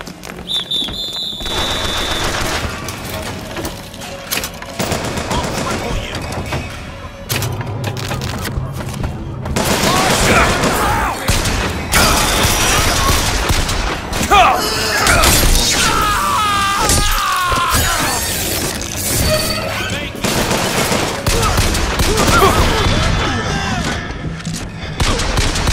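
Gunfire and crashing impacts from the first-person shooter Bioshock Infinite, loud volleys and bursts breaking out after a quieter opening, mixed with clattering debris and game effects.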